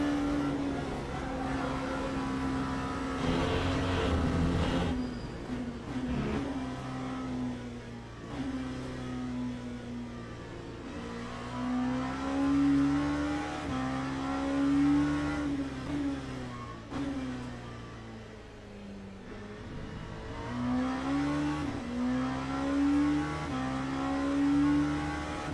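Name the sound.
LMP2 race car engine revving, racing video game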